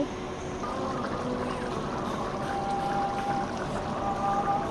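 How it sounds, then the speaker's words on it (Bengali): Steady pouring water splashes into a pot of fried ingredients for bhuna khichuri, with a constant, even wash of sound, close and moderately loud, with no talking. "এখন আমি পানি দিয়ে দিয়েছি।"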